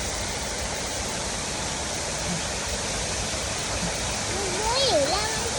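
A river flows in a steady broadband rush of water close by, constant in level throughout, with faint voices and a brief whistling tone near the end.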